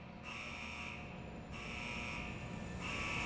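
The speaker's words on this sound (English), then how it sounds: "they observed the refrigeration equipment running and the ammonia alarm sounding" An ammonia leak alarm sounds inside an ice arena's refrigeration compressor room, a loud harsh electronic buzzer pulsing in long, evenly spaced blasts over a constant background hum of running machinery.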